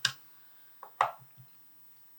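Makeup powder being tapped while re-pressed: a few soft, sharp taps close up, clustered in two brief bursts with light thuds between, no talking.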